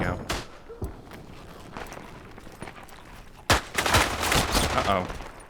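Bursts of automatic gunfire crack out in a slower-paced shooter video game, a rapid volley near the start and a louder sustained burst later, mixed with footsteps and brief voice sounds.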